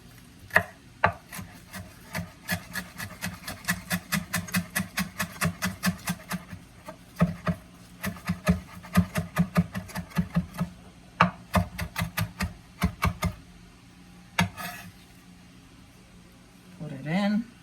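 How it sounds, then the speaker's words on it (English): A knife chops fresh parsley on a wooden board in a home kitchen with quick, even strikes in steady bursts, pausing briefly between runs. The chopping is close and crisp. "Chop up your parsley."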